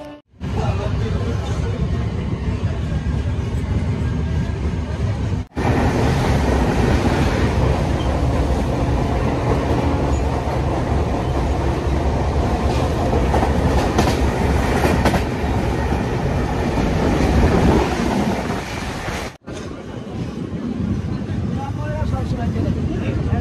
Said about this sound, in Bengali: এখান থেকে আমাদের ট্রেন ছেড়ে চলে যাচ্ছে